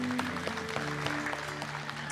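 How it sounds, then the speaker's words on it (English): Steady audience applause in a room, clapping continuously through a short stretch with faint tonal hum underneath and no talk. "Give these guys a big round of applause."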